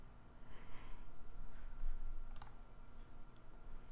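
A computer mouse gives one crisp click partway through, set against a steady low hum with no voices.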